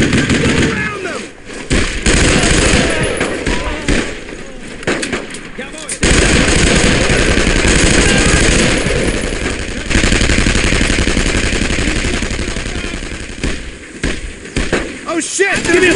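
Machine gun and rifle fire in the World War II video game Brothers in Arms: Road to Hill 30, loud dense bursts of rapid shots, some stretches continuous and others choppy, under shouted voices of soldiers.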